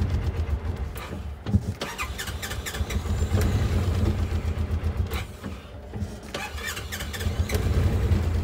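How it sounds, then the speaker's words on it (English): A 2017 Polaris Ranger 1000 XP side-by-side with a shifting fault is cranked and started, its engine catching with uneven bursts and squeals and then idling roughly, close to the microphone and with no talk over it. "Once you start the engine, which doesn't want to stay started all the time."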